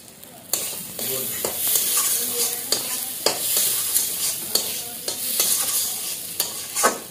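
Tarka with turmeric and salt being stirred and fried in a pan, a steady close sizzle broken by repeated sharp scrapes of the spoon at an uneven rhythm.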